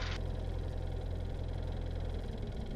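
A light aircraft's piston engine holds a steady run-up at 1800 rpm during a magneto check, a constant loud droning hum with low throbbing and no talk.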